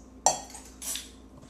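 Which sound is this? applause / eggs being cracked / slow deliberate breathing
eggs being cracked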